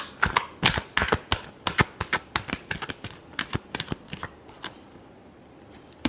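A tarot deck is shuffled close by, giving a rapid string of crisp card slaps and riffles that slows and thins out toward the end.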